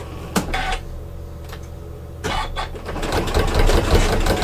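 A Janome sewing machine fitted with a quilt binding set stitches binding around a curved quilt corner; after a few scattered clicks and handling taps, the motor whirs up and runs in a close, steady mechanical hum.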